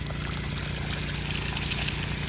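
Clear water discharging from a newly drilled water well pipe, a continuous, fairly soft pouring and splashing rush with a low steady rumble beneath, no talk over it.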